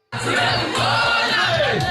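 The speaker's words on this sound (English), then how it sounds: "His swearing in met with loud cheers from an electrified crowd." A large, electrified crowd roars with loud cheers at the swearing-in of a new Meru County governor, a dense and continuous wall of voices that starts abruptly and holds for about two seconds.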